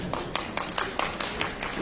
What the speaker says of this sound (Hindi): तो ताली भी बजा रहा हूं।